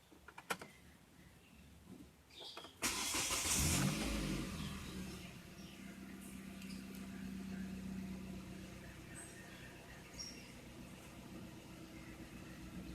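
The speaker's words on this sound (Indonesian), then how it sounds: "Kita mau nyalain mesinnya." A Hyundai Trajet engine, just refilled engine mounts, cranks with a loud starter burst after some handling clicks, then settles into a steady, low idle hum that carries on close by.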